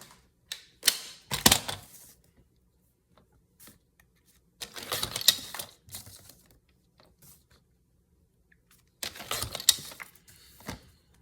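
Scissors snipping through paper in three separate bursts of quick crisp cuts, close by, with quiet pauses between them.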